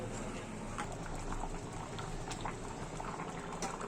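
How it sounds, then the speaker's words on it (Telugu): Coconut rice simmers in a pot of water, a steady close bubbling and popping that stays even throughout with no voices. "ఇలా రైస్ యాడ్ చేసుకున్న తర్వాత దీన్ని ఒక 10 నిమిషాలు ఉడకనివ్వండి"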